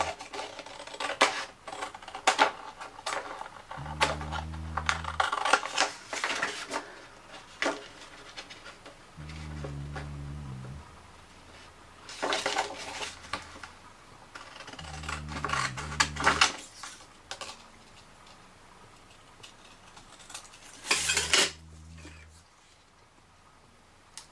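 Paper shapes being cut out from nested dies, heard as a series of close, quiet snipping and rustling passages with brief pauses between them, broken by a few louder crinkles and handling knocks.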